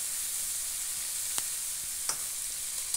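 Hilsa fish heads sizzle in hot oil in a pan, a soft continuous crackling hiss with a few sharp pops and spatters, close and alone.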